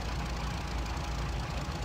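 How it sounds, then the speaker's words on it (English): A World War II aircraft engine idling in IL-2 Battle of Stalingrad, a steady, gritty, knocking drone with a heavy low end, constant and fairly quiet. "our engine is running."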